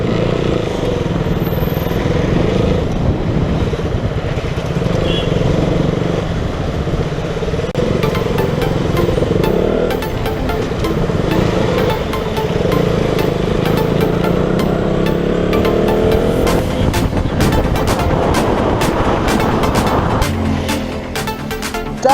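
A KTM Duke 200 motorcycle cruising on a highway toll road, its engine drone steady and close throughout, mixed with rushing wind, with a burst of sharper mechanical ticking and rattle near the end.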